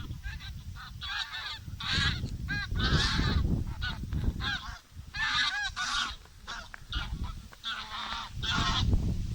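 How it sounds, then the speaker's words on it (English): Canada geese honking repeatedly as a flock flies overhead on a Norfolk nature walk, loud overlapping calls in irregular bursts over low wind rumble, no talking. "Look at this Canadian geese coming over."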